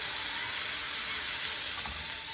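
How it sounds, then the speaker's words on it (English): Loud, steady sizzling of a burger patty smashed into a hot oiled pan, a continuous crackling hiss without pause. "see that immediate, very nice sizzle"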